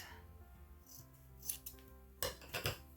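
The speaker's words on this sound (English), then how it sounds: "I need my fabric scissors, and we're gonna just use the edges. So we're gonna just cut that out like this." Fabric scissors snip through fabric along its edges while making a seed-packet pocket for a mini journal: several close, crisp cutting bursts, two near the middle and a cluster toward the end, over a faint steady hum.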